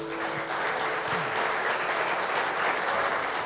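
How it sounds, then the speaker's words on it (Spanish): A church congregation gives loud, sustained applause during a service, with steady dense clapping throughout and a faint tonal hum beneath it. "Dale un fuerte aplauso al Señor."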